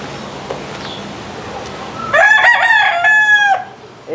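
A rooster crows loudly and close by, one long drawn-out call rising and holding before breaking off, after a few seconds of quiet background noise.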